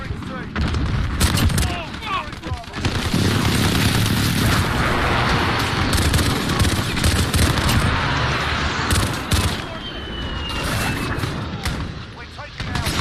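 Rapid gunfire bursts and booming explosions from a multiplayer shooter video game match, dense and continuous throughout with sharp repeated shots layered over a sustained rumble.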